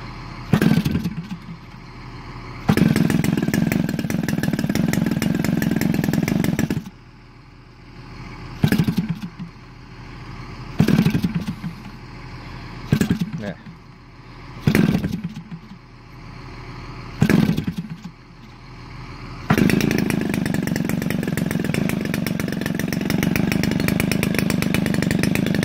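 Small EVO 40GX gas engine with CH ignition sputtering through several brief start attempts, then catching and running steadily with a buzzy, chainsaw-like drone, close and loud.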